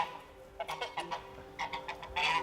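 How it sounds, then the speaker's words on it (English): A bird lets out a string of short, nasal goose-like honks in quick uneven bursts, fairly close but quiet, with no talking over them. "Crazy bird."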